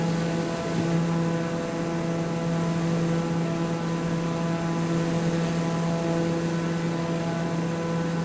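A propeller aircraft drones in Microsoft Flight Simulator 2024 on a PS5 while touring over Lake Michigan, giving a steady, loud engine hum with constant tonal harmonics that never changes for the whole stretch, and no voices.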